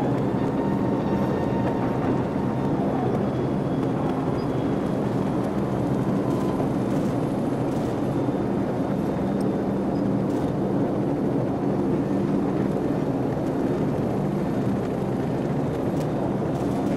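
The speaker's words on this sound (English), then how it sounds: "Friendly helicopters entering the area." Helicopters fly over a battlefield in a video game, making a steady, dense roar that runs unbroken and fairly loud throughout, with no voices over it.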